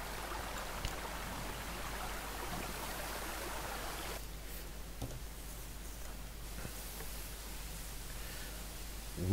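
Rain and water noise on trucks in the Spin Tires off-road game, with GAZ-53 trucks, heard as a steady hiss and wash. It turns quieter and thinner about halfway through, with no talking.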